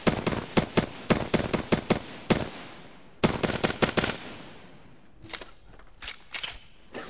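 Loud, close bursts of automatic gunfire in Apex Legends come in rapid clusters of sharp shots with short pauses between volleys, then quieter distant shots toward the end.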